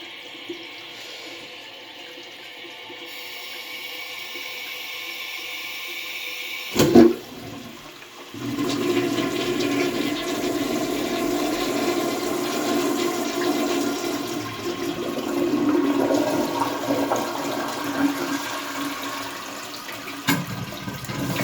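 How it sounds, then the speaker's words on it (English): A high-tank toilet flushes with a sharp clunk of the pull, then a steady loud rush of water running on for many seconds and ending in another clunk. "Let's see how this will flush."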